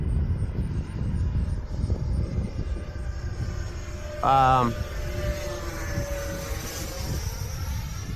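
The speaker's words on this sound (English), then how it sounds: "Sound of this plane." A radio-controlled FMS Futura 64mm electric ducted fan jet whines overhead with a steady rushing drone, its pitch sweeping as it passes; a brief burst of voice cuts in midway.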